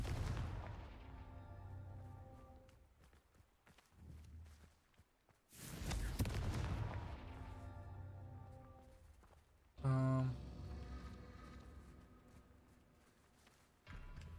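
Confringo spells blast in Hogwarts Legacy on a Scottish isle, sharp explosive bursts that each ring out with a tonal tail, three separate blasts spaced several seconds apart at moderate loudness.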